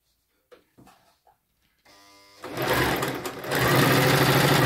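A Toyota RS2000 series sewing machine, freshly oiled and cleaned, starts with a few soft clicks, then runs up into a loud, fast, steady mechanical whirr of stitching close by.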